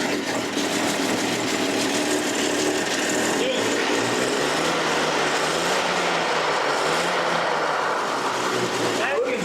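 A 1936 International truck engine runs steadily at close range, a continuous loud rumble with a rattling edge, and a voice talks over it.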